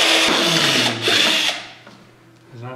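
Power drill boring a pilot hole with a dull bit to start a jigsaw cut, a loud high whine for about a second and a half that cuts off and winds down, followed by quieter handling noises.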